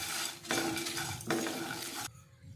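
Fresh curry leaves roast in a hot pan, crackling and sizzling loudly under a couple of close scraping stirs, before the sound drops away abruptly at the end.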